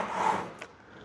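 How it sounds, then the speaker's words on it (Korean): A hand saw draws one short rasping pull across wood, starting the first shallow groove, close and soft, followed by a faint scrape. "톱을 눕혀서 살짝 당기면서 첫 번째 홈을 팝니다"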